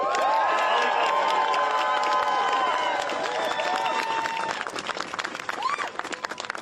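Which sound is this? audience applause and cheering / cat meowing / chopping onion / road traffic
audience applause and cheering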